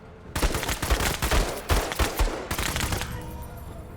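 Rapid bursts of gunfire from the video game Menace, several loud overlapping shots in quick succession with dense rattling volleys, no talk over them.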